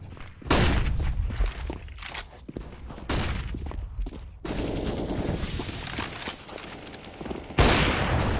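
Rapid bursts of gunfire in Counter-Strike on the dust2 map during a competitive match: sharp, loud volleys and sustained rifle fire broken by brief lulls, with footsteps and thuds in between.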